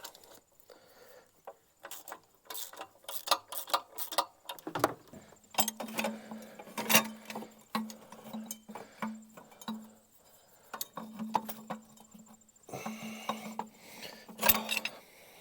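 Tools working on a cross-over tube atop a Duramax LML diesel engine: irregular metallic clicks, taps and ratcheting bursts, close and moderately loud, with a steady low hum running through the middle and end.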